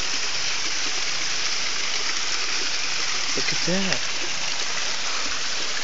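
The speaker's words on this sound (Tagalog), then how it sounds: "Ano ito yung mga small falls." Small falls on a stream pour in a steady, full rush of water close by, continuous throughout, with a brief voice speaking over it partway through.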